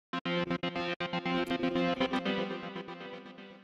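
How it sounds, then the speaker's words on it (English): A gate sequencer VST plugin chopping a distorted synth tone with delay echo, choppy rhythmic gated stabs that blur into repeating echoes and trail away, loud and alone. "So you can hear the echo"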